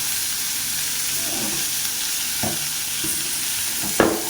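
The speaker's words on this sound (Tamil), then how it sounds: "வெங்காயமும் வதங்கிடுச்சு நல்லா. இப்போ இது கூட நம்ம தக்காளி சேர்த்துக்கலாம்" Onions, tomato and curry leaves sizzle and fry in a pan for potato chutney, a steady hiss broken by a few stirring scrapes and a sharper clatter near the end.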